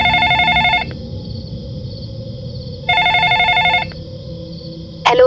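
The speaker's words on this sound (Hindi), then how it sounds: "अचानक फोन बज उठा।" A telephone rings in two loud bursts of electronic bell tone separated by a pause, with a third ring just starting at the end, over a low murmuring background in a horror story setting.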